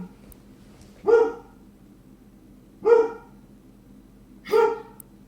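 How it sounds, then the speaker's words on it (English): A pet dog barks three times at even intervals, each a sharp, fairly close bark with quiet pauses between, indoors during an online 3D modelling critique session. "So my dog's trying to get attention."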